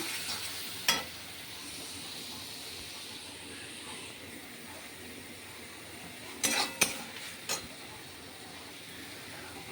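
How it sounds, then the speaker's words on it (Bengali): Spice paste for a rohu fish curry being stir-fried in a pan, a soft steady sizzle and hiss with a few sharp clinks of a utensil against the pan near the start and toward the end. "মশলাটা খুব ভালো করে কষিয়ে নিচ্ছি"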